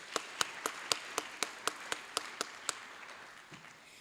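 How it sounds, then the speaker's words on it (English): A faint hand of applause for a provost at a live-streamed event, a few sparse, evenly spaced claps standing out over a quiet room. "Can I have another hand of applause for my favorite provost"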